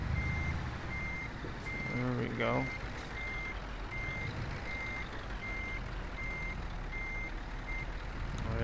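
A Scania truck in Euro Truck Simulator 2 backs into a parking spot, its reversing alarm beeping in a steady, evenly spaced rhythm over a constant engine rumble, with someone talking and a brief hiss partway through.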